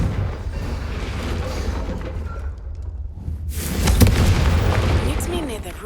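A Confringo fire spell in Hogwarts Legacy bursts into a loud, booming blast after a quieter stretch of rumbling game ambience, with a bright crackling flare and a lingering roar.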